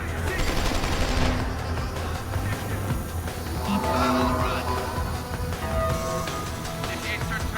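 Sustained gunfire in the video game Deus Ex: Human Revolution, laying down cover fire, a loud continuous barrage of shots with game music and effects mixed in over several seconds.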